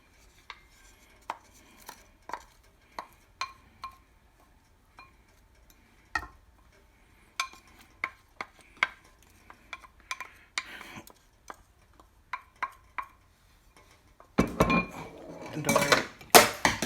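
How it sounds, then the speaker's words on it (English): Pieces of fried Spam and green onion go into ramen bowls: scattered light clinks and taps of utensils against dishes, then a louder burst of clattering near the end. "we're putting in our pieces of fried Spam into both of our ramen, our toppers"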